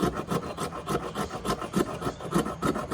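Ridges on the spine of a Buck 863 Selkirk bushcraft knife rasp back and forth across fatwood in quick, even strokes, a close, dry scraping repeated about a dozen times.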